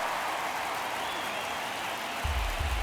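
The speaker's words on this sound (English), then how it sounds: "Crowd locked in right now." Stadium crowd noise from an MLB The Show 23 baseball game between the Mets and Yankees in the ninth inning, a steady loud roar that swells near the end.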